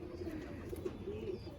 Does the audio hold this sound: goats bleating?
no